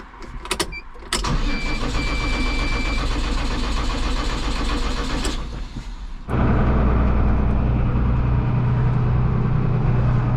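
A farm tractor's diesel engine cranks with a few short bursts, then catches and settles into a steady idle before jumping to a louder, higher running rumble, close by with no talking.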